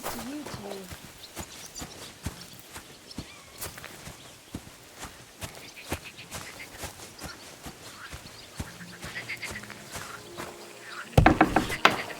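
Steady hoofbeats of a horse clip-clopping in Kingdom Come: Deliverance 2, a regular series of sharp, close knocks over faint ambience, with a brief voice near the start and a louder burst near the end.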